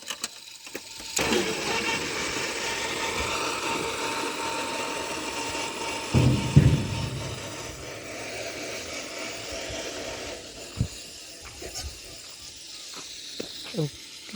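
A truck's engine rumbles steadily as it pulls up to be loaded at a laterite stone quarry, with machinery noise around it and brief knocks and voices toward the end.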